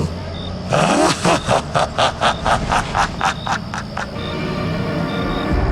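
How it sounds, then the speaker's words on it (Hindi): A car engine revs hard as the vehicle speeds away on a road in dense fog, rising into a rapid series of loud rhythmic pulses before settling into a steady rumble; a voice narrates over it. "गगन ने गाड़ी तेज भगानी शुरू कर दी।"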